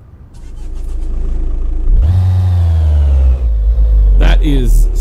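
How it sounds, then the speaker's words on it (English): A video game Mercedes-Benz Sprinter van's diesel engine in American Truck Simulator drones low, then revs up into a loud, gruff rumble that holds steady, with a brief voice cutting in near the end. "It sounds like a diesel."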